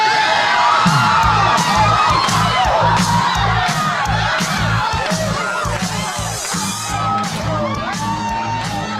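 A lively party crowd cheers, whoops and shouts continuously over a thumping dance beat.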